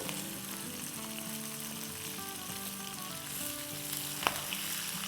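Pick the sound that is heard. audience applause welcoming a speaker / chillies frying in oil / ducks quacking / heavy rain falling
chillies frying in oil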